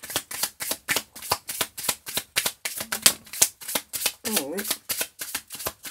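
Tarot-style cards are shuffled close up in a quick, even run of crisp riffling flicks, about four per second, with brief speech partway through.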